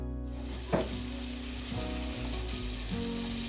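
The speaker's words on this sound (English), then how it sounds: "We're going to put that over into the hot oil in our skillet." Steady, even sizzling of chicken browning in hot oil in a skillet, with a brief clatter early on and no talking.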